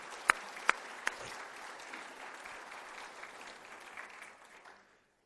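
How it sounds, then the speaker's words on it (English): Audience applause at a spring college address, fairly faint and even, with a few sharp louder claps near the start, then fading out to silence at the end. "let's applaud her anyway"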